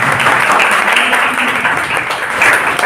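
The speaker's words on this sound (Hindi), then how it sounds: "Thank you so much, Tali बजाइए।" Classroom applause from a group of students, a dense, steady burst of many hands clapping together, loud and close, sustained without a break and with no talk over it.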